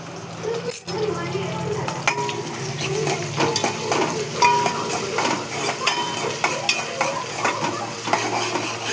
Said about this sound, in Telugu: కొంచెం గోల్డ్ కలర్ వచ్చేదాకా వేయించుకోవాలి